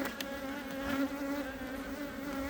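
Honeybees buzz steadily around a beehive being prepared in spring, a dense close drone holding a constant pitch throughout with no voices.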